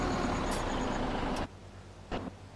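A heavy truck rumbles in Farming Simulator 17 with a loud engine drone and intermittent beeping, then cuts to a quieter idle with a short hiss like an air brake.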